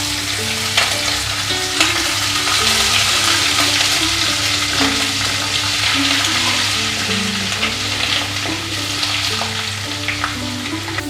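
Cumin seeds and ginger paste frying in hot oil for sabudana khichdi, a steady close sizzle and crackle with occasional spoon scrapes against the pan, continuous and fairly loud with no talking.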